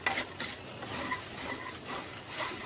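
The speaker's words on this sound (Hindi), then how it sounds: "अच्छे से चला के मिक्स करेंगे।" A spoon scrapes and rustles through roasted jowar dhani (sorghum puffs) mixed with spices and amchur powder in a pan with the gas off, soft close rhythmic stirring strokes with no talk.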